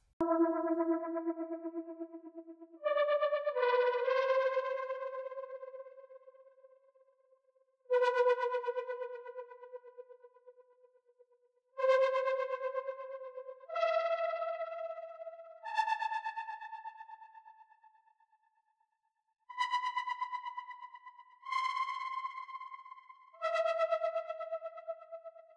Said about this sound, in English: LFO 2 right here is linked to the filter cutoff, which is what results in the like stuttery effect of the lead